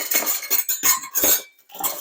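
Clatter and clinks of metal kitchen utensils being rummaged through to fetch a teaspoon-sized scoop, several short bursts close by in a home kitchen while making meatballs.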